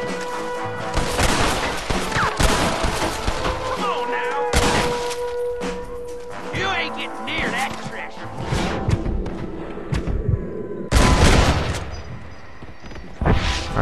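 Gunfire in the Red Dead Redemption video game: several sharp shots and crashing impacts, some in quick bursts, alongside music and someone talking over the action.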